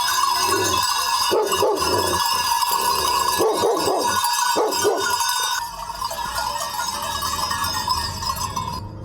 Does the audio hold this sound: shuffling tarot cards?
no